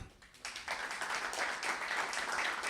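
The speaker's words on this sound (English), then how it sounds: "So shall we give a big round of applause to everyone?" An audience at an AI in e-governance forum applauds for the panel, a steady wash of clapping that swells after a brief quieter start and carries on evenly.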